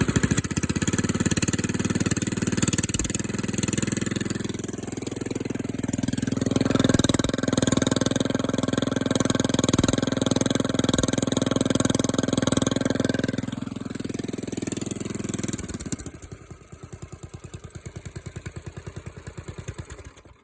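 Motorcycle engine with its stock exhaust running steadily and fairly loud, with a rough, clattering idle note for about fifteen seconds before dropping to a quieter, thinner mechanical chatter.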